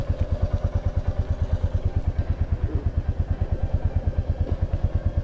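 A Royal Enfield Meteor 350 motorcycle rolls along carrying a rider and pillion, its engine giving a steady, close, even run of low thumping beats with no voices over it.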